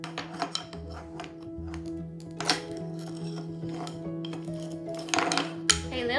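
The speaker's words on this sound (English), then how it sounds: "They're just little pots and pans." Little toy pots and pans for a child's play kitchen clink and clatter in light metallic knocks and scrapes, close by, in irregular bursts with a few sharper hits.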